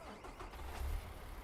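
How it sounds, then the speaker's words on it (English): Emergency services vehicle engine from a modded Farming Simulator 19 game, a steady low mechanical hum that swells briefly and settles, fairly quiet and heard alone. "check out the engine sound here"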